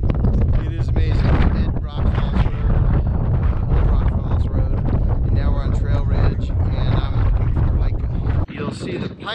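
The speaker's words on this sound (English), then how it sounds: "this is extremely windy" Strong wind roars and buffets the microphone continuously, loud and gusty, with a voice speaking beneath the rumble, at high elevation in Rocky Mountain National Park.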